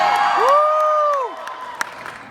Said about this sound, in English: I wasn't hoping you'd cheer.